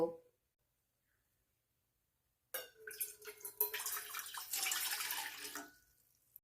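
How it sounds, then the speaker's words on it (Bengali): Water poured into a steel bowl set on a gas stove over low flame splashes and rushes for about three seconds after a quiet pause, loud and close, then tapers off. "এর মধ্যে আমি বড় কাপে দু কাপ জল দিয়ে দেব"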